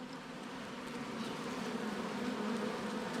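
A small honey bee swarm being caught hums as a dense, steady buzz of many bees, close and fairly quiet, with no voices over it.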